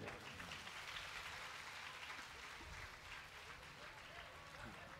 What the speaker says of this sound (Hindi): आप सब लोग जोरदार ताली बजा दें।